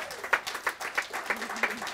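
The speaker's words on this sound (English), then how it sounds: "Round of applause" Audience applause for an Olympic gold medallist at a celebrity curling bonspiel, a short burst of scattered clapping with distinct individual claps at moderate distance and a voice speaking briefly over it.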